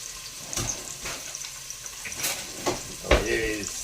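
Onions being stirred in a frying pan for spaghetti Bolognese, giving a soft sizzle with a few scraping stirs and a louder clatter near the end, heard close up.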